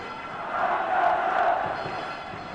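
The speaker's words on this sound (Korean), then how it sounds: "관중 속에서 큰 외침이 들려왔다. 박철순을 부르는 소리였다." A baseball stadium crowd shouts in unison, calling for pitcher Park Chul-soon. The swell of massed voices sounds distant and moderately loud, rising in the middle and then easing off.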